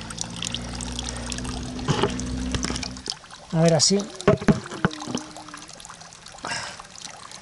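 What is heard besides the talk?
spring water filling a bottle at a fountain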